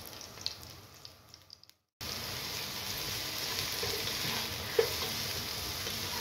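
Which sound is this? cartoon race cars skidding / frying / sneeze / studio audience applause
frying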